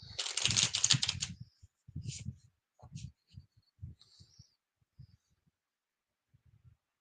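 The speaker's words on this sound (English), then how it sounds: "I'm going to shuffle these a little bit" A deck of tarot cards being shuffled by hand, a dense crisp riffling burst followed by softer scattered card slaps and taps, with a little talking in between.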